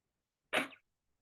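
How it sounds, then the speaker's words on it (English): A single short, sharp sneeze bursts out close by, then silence. "something came into my environment that made me start sneezing."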